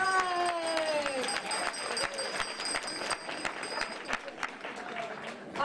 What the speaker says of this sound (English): Let's have a round of applause for the wonderful OMNI people.